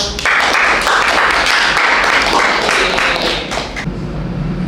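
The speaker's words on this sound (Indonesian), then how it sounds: "Oke, tepuk tangan bagi Nasma dulu" Classmates in a high school chemistry class applaud a student presenter, giving dense, sustained group clapping that fills the room for several seconds, with a slight fade toward the end.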